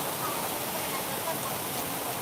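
Rain falling outdoors in Thailand, a steady, close, broadband hiss of drops that stays even from start to finish.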